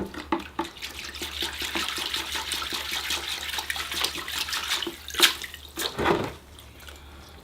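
Water splashes and trickles steadily as soil is rinsed off the roots of a bonsai cherry tree during repotting, close and fairly soft, with a couple of sharper splashes near the end.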